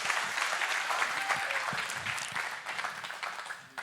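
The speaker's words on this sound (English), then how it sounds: "Would you give them a round of applause?" A church congregation applauding, a full, steady burst of clapping that holds loud for several seconds before tapering slightly.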